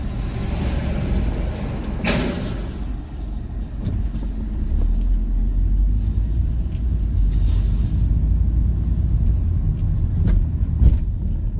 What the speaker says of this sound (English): Guys are running these trucks around, lining all of the sewer lines